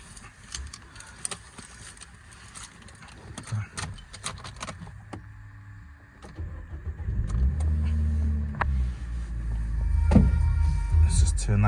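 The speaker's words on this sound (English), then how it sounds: "I will start her up for you, just so you can have a quick listen to our Nissan Note" A 2008 Nissan Note 1.6 Tekna with manual gearbox: keys and clicks, then the engine cranks and catches, settling into a steady low idle close by, with a louder surge near the end.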